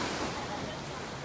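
Broadband wash of sea waves breaking along Pattaya beach on a windy day, a steady surf roar with no distinct breaks, heard from the shore at moderate distance.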